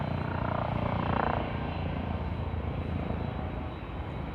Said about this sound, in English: Now, there's also a police helicopter behind me.